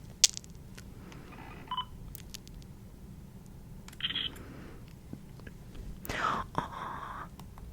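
A digital camera fires with forced flash, giving soft clicks, beeps and brief shutter and flash whines at a few moments over faint room hiss, close and quiet, with hushed whispering in between.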